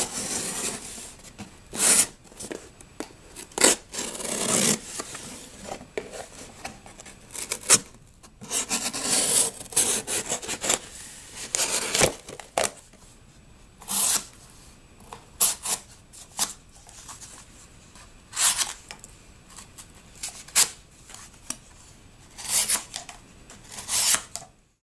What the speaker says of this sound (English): Now for another cutting demonstration on some cardboard, just an old pizza box here.